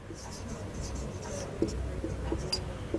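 Pen or marker writing by hand during a math lesson, a steady scratchy stroking with a few light taps, heard under a teacher's ongoing talk.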